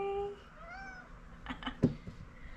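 A Bengal mix cat meows in a few drawn-out, rising and falling cries close by, followed by some soft clicks and thumps, with faint background talk.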